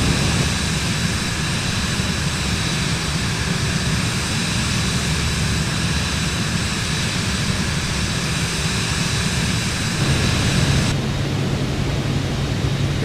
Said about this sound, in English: Flying in the mountains in a Vision Jet.